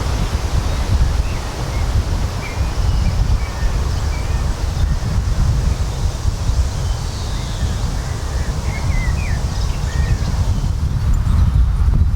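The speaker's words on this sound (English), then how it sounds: "it's very windy and very noisy again" Strong wind buffets the microphone on a riverbank with a constant heavy low rumble, nearly drowning out faint outdoor sounds beneath it.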